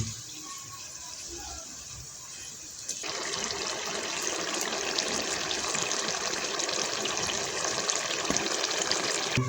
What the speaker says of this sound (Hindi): अभी ये हमारा घी गर्म हो गया तो अभी ये जो रोल इसके अंदर डालेंगे